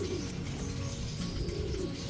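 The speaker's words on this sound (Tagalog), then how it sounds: "Laki ng ibon no, parang paniki oh." A large bird gives low, throaty cooing calls close by, steady over a dense background hum.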